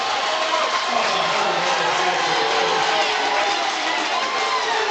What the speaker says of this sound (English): a lot of noise that's from the the crowd